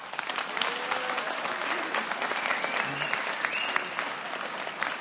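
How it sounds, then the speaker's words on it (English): An audience at a detention center presentation applauds in a steady, dense wash of clapping that holds at an even level for about five seconds, with no voices over it. "Let's give the gentleman another round of applause."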